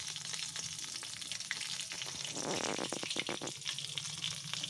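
Eggplant slices fry in hot oil with a dense, steady sizzle and scattered sharp crackles and pops near the middle, close and continuous with no voices.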